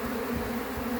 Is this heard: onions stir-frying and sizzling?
no